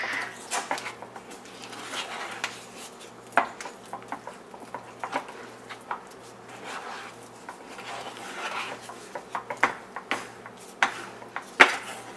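Homemade play dough mixture being stirred in a pan, with steady soft scraping and frequent light taps and knocks of the spoon against the pan, close and fairly quiet.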